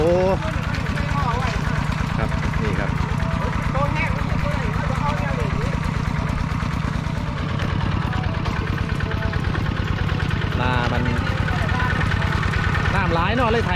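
A small walking tractor engine chugs steadily nearby with a low, rhythmic idling rumble, while people talk over it.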